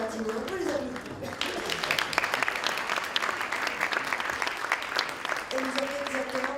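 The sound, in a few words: audience applause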